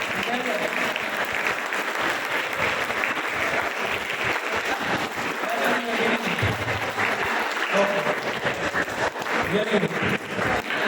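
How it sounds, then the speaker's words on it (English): Students at a school artificial intelligence seminar for class 10 and 12 clap for classmates who answered questions, a sustained round of many hands in a classroom, with voices mixed in beneath the clapping. "a round of applause for all these three people who already answered"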